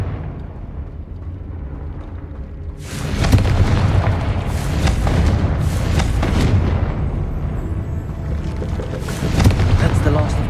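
A Confringo fire spell blasts in the Hogwarts Legacy video game on PS5, a sudden booming burst after a quieter ambient stretch, followed by crackling fiery rumble and a second swell near the end.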